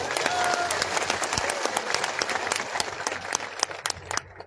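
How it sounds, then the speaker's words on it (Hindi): Crowd applause at a village memorial unveiling ceremony for a martyr's statue, steady dense clapping throughout with a few sharper claps near the end, loud and close. "जोर से ताली बजाइए बताओ।"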